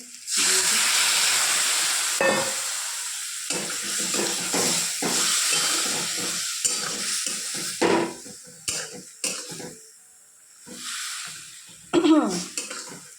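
Ground green chilli paste sizzling in a little oil, a loud hiss with scrapes and clatter from stirring in the pan that rises and falls, quieting briefly near the end before flaring again.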